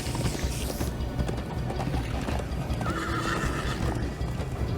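A horse gallops in the video game Minecraft Story Mode, its rapid hoofbeats and a whinny running through a busy game soundscape.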